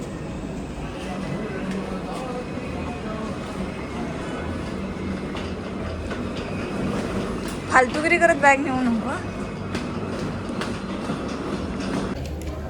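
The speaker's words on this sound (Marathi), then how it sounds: "फायनली 12:30 वाजता ट्रेन आली आहे" A train pulls into a station at Ratnagiri in the Konkan, a steady rolling rumble with a brief burst of wheel squeal partway through, while people talk nearby.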